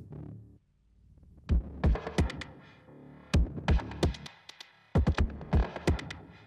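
Deep, heavily processed kick drum hits in uneven bursts, thumping and boomy with sharp attacks, alone without other instruments.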